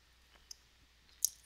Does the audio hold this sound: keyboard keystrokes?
yes